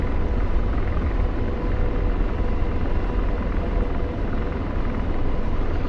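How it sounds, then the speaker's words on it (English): Steady, loud rotor drone and engine rumble of an enemy helicopter in a multiplayer shooter game, a constant close whirring roar with no breaks. "Enemy helicopter, I just hit it."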